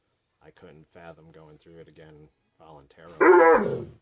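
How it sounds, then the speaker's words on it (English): A person talks calmly, then a loud, rough dog growl or snarl erupts close by at the end. "That's my dog."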